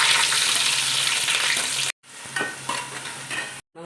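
Ginger and onion sauté in coconut oil in an uruli for a black pomfret curry, loud close sizzling with stirring scrapes, cut by two brief silences.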